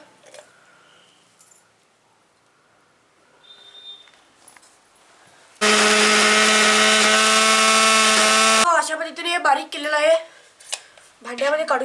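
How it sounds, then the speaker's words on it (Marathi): A kitchen mixer grinder runs loud and steady for about three seconds, grinding soaked mahua flowers into a paste, starting and stopping abruptly between stretches of quiet and spoken talk. "मिक्सर मध्ये घालून घेऊया थोडं थोडं"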